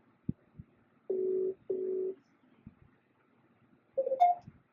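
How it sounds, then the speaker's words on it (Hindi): An outgoing phone call rings back twice, two short even tones in quick succession, followed by a brief rising electronic chirp as the call connects, heard faintly through a handset with no talking. "आवाज़ आ रही है आप लोगों को बेल रिंग की?"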